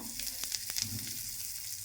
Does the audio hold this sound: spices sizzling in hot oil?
yes